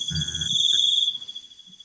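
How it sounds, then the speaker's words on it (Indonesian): A cricket chirping sound effect dropped into an online religious debate: a steady, shrill, close chirp holds for about a second over a soft low rumble, then fades out. "Kata jangkrik ya, krik katanya."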